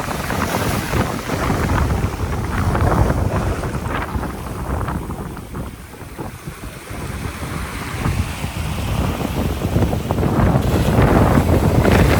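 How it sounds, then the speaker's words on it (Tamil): Strong wind blows across Nayaru beach, roaring and buffeting the microphone in loud gusts over the wash of surf, easing briefly midway and then rising again, with no one speaking. "காற்று கூடுதலாக அடிக்குது"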